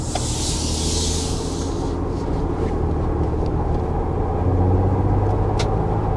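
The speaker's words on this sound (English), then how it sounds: "You can kind of hear a little wind noise, but it was manageable." Steady wind noise and road rumble on all-terrain tires fill the inside of a Ford Bronco Badlands moving at speed, with a constant hiss and no talking.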